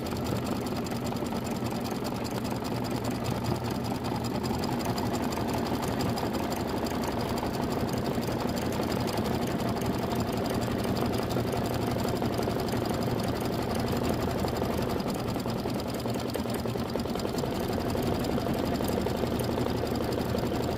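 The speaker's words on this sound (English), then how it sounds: "then we're going to get stitching the house" A Kimberbell embroidery machine stitches a house design for heart and home door decor in a 5x7 hoop, giving a steady, close mechanical hum with rapid needle rhythm that runs unbroken for the whole stretch.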